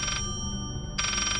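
Telephone ringing in the horror video game Layers of Fear: two bright electronic ring bursts separated by a short pause, clear and fairly quiet, with no voices.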